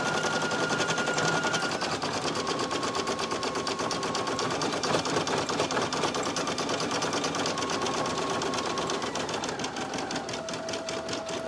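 A Brother PE800 single-needle embroidery machine with a 4x4 hoop stitches a design onto a floppy hat, running as a loud, fast, steady mechanical rattle of needle strokes that carries on without pause and without talk.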